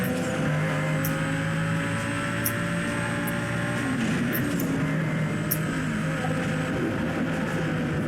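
Racing cars in Need for Speed Most Wanted, with steady engine drone and humming tones held throughout, a shifting swoosh midway as cars pass, and no speech.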